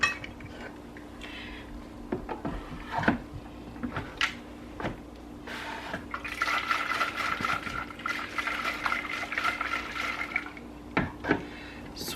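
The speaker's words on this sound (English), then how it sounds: "I'm gonna add just a little bit of water to this so I can get all the rest of that flavor that's in there" Water poured into an Instant Pot to deglaze after cooking birria, with scattered clanks and scrapes of utensils against the pot and a swishing wash of liquid in the middle, close and fairly loud.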